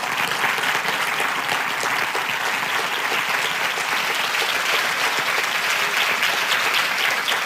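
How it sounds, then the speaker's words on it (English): Sustained applause from an audience thanking a panel at an alumni event, dense steady clapping throughout with no speech over it. "Give them a round of applause."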